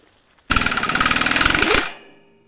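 An impact gun hammers rapidly on rusted, seized nuts in one loud, close burst of about a second and a half, with steady rattling blows that stop abruptly.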